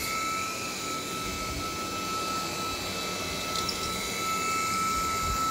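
A DreameTech T30 cordless vacuum cleaner works a living-room carpet, producing a steady, moderately quiet motor whine with thin high tones over a rushing airflow, continuous and without talk.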